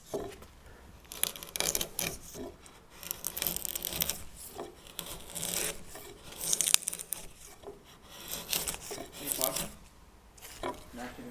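A hand slick paring across the end grain of a timber frame tenon, giving repeated scraping, rasping strokes in an irregular rhythm at close range, with no talk.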